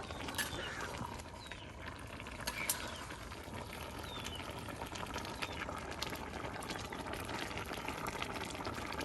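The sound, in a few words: gourd and rohu fish curry boiling in a pot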